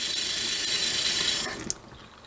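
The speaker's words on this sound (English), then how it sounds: "Pump is still making a lot of noise after I run the water, but it's working." An RV water pump runs with the water on: a loud hissing water rush with mechanical buzzing stops abruptly, leaving a faint tail and a brief click.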